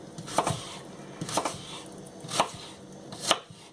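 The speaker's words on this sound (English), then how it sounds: "make 1, 2, and then just chop it down the middle" A knife chops slices down the middle on a cutting board, four distinct thuds spaced about a second apart, close and crisp with quiet pauses between.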